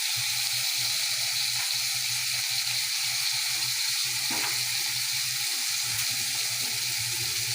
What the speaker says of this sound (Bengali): টমেটো দিয়ে দিলাম, আদা রসুনটাও দিব, ভাজা ভাজা করবো আদা রসুনটা।